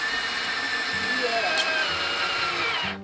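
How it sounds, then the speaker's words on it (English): A power drill whirs steadily and loudly up close for about three seconds, its motor whine holding constant before cutting off abruptly at the end. "I'm practicing my drilling."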